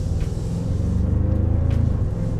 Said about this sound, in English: with the TRD intake and the TRD exhaust on this one as well, it does have a pretty good kind of low-end grunt to it